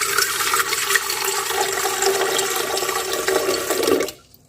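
Lukewarm water pours steadily into a bowl for bread dough, a continuous close splashing stream that cuts off abruptly near the end.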